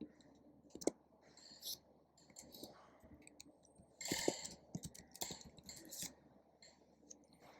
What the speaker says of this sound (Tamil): இப்போ நான் இதில் புது பாஸ்வேர்டு நான் இதில் டைப் பண்ணுறேன்.